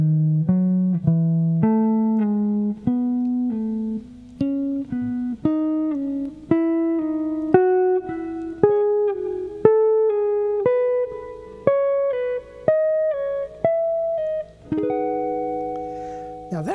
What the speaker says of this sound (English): practice scales with skips in them. Don't always just go up and down, play some things with a different feel to it.